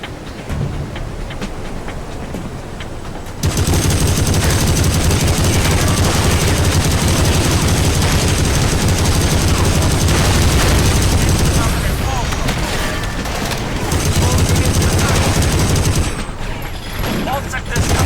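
Battlefield 2: Modern Combat island defense battle: dense, continuous machine-gun fire and rifle shots, loud and sustained, with a quieter stretch at the start before the firing swells, and radio-style voice lines beneath.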